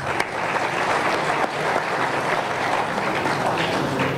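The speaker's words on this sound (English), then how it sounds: "So a big round of applause for both of them." Sustained audience applause at a memorial lecture, steady and dense throughout with no talk over it.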